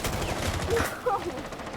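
Gunfire in the game Rainbow Six Siege, a quick cluster of shots and impacts lasting under two seconds, moderately loud and dense with other game sounds.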